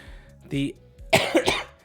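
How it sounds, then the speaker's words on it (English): A single person coughs twice in close succession, a short harsh burst after a brief throat sound, loud and near with no other activity. "I'm going over a cough right now"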